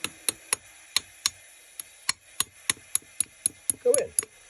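Taper pin being tapped into place on a South Bend lathe part, a series of about fifteen sharp metallic taps at a steady ticking pace, close and clear, with a short scuffing rattle near the end.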